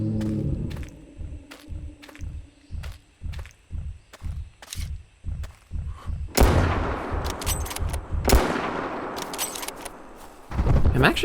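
Hunting gunfire in the video game Prehistoric Hunt, a string of sharp, evenly spaced booming shots followed by louder, rough bursts of noise.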